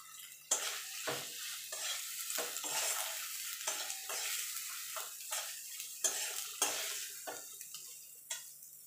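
Chopped tomato and salt sizzle in a pan with ginger garlic paste, stirred with a utensil that scrapes and clacks repeatedly against the metal over a steady close frying hiss.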